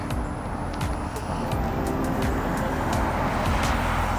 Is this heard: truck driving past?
yes